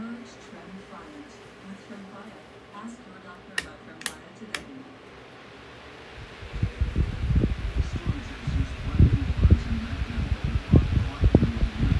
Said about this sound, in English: let's go ahead and run it for the second time at full power